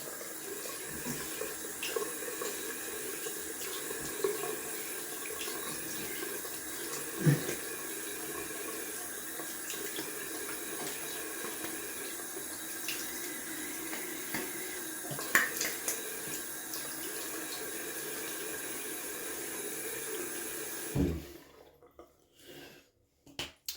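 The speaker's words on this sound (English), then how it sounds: "We'll hit the face up with some more cold water and then we'll see." Cold water running steadily from a bathroom tap during a wet shave, a continuous close splash with a few small knocks, cut off abruptly near the end.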